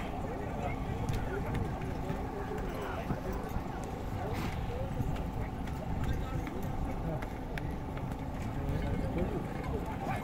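Horses running during an ulak (kok-boru) horseback game near an airport in Bishkek, a dense continuous rumble of hooves and crowd noise throughout, loud and steady with people talking over it.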